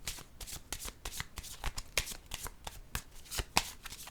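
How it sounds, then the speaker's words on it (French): Tarot cards being handled and laid on a table make a rapid run of crisp, close, soft slaps and riffles, quiet and without talk. "Je vais déposer une carte ici."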